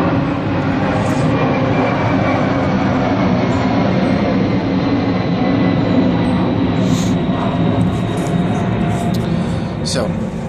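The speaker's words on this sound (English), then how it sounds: "Hold on, there's a plane." An airplane passes overhead with a loud, continuous broad roar that holds steady through the whole stretch, thick low rumble dominating.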